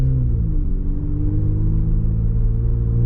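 A loud, steady engine rumble with a deep throaty exhaust drone from a Jeep Wrangler Rubicon with its muffler removed, heard continuously from inside while driving.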